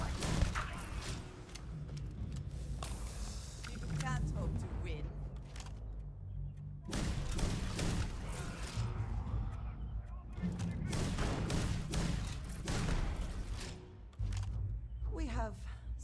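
Bursts of weapon fire in the sci-fi video game Starfield: Shattered Space, rapid and continuous, with someone talking over the shooting and game sounds.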